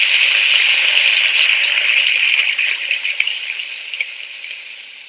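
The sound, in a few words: bacon frying, sounding like rain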